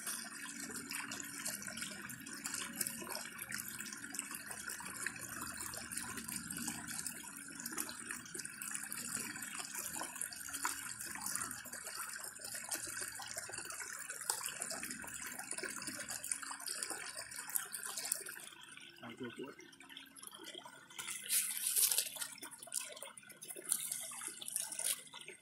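Water runs from a tap over a freshly found fossil in Ohio, a steady soft splashing stream that continues for a long stretch, briefly changing tone near the end.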